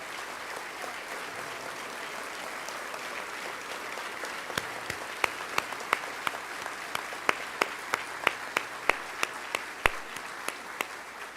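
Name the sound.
audience applause for fire department members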